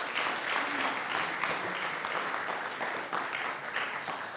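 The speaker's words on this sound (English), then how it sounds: "a round of applause for our board of directors" A crowd applauds steadily, a dense wash of many hands clapping at once, holding even and loud throughout.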